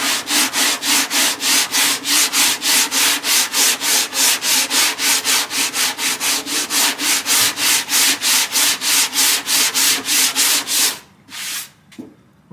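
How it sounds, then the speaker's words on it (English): Hand sanding of Bondo body filler on car bodywork, a steady back-and-forth rasp repeating about three strokes per second, close and loud, then breaking into a few irregular strokes at the end with no talking. "so we can keep sanding and get rid of that"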